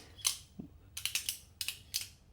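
Winterblade Mythic folding knife closing as the blade is tucked and folded in: a faint click, then a quick run of sharp metallic clicks and snaps, close and crisp with no voices.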